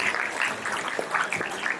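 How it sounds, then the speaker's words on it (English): Audience applause at an award ceremony celebrating a national sustainability win, a brief steady patter of many hands clapping at moderate volume. "So one big round of applause"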